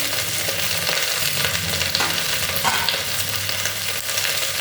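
Mixed vegetables, including large bean seeds, sizzle and fry in a pan for mung dal while being stirred, a steady close hiss broken by scraping stirs, with no talking.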